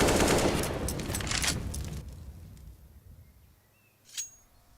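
Rapid bursts of gunfire from a Counter-Strike esports match at IEM Katowice 2023, a dense volley that fades over a couple of seconds, followed by a single sharper shot.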